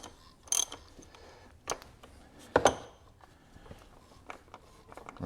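A wrench with a 32mm socket loosens the top-mounted oil filter housing on a 2017 VW Golf Alltrack, giving a few faint ratcheting clicks and scraping creaks with soft handling knocks in between.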